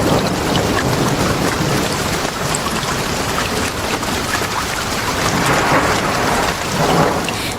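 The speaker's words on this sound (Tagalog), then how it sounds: "malakas na ulan" Heavy rain pouring hard with thunder, a dense and continuous roar of downpour with low rumbles beneath it, loud and steady throughout, used as a storytelling sound effect, with no voices.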